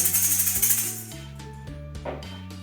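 A rapid rattling shake of maracas fills the first second in quick pulses, then fades into light taps over background music in a kindergarten music class.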